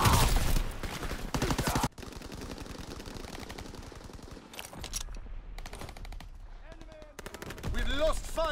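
Tank and machine gun fire in a World War II Ardennes multiplayer battle game, with sharp bursts of automatic fire up front, then scattered distant shots and booms through the rest, and voices briefly audible.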